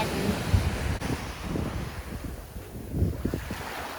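Sea waves wash along the Kanagawa coast in Japan, a continuous broad roar of surf mixed with strong wind buffeting the microphone, with no talking over it.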